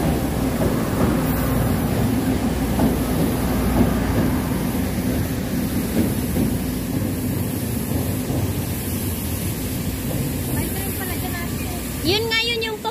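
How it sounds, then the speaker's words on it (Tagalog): An old train rolls past on the rails at Shifen, New Taipei City, a loud, continuous rumble and rattle that holds steady and close for the whole stretch. "The train is coming."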